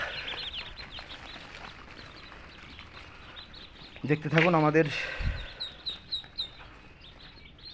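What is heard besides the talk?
ducklings peeping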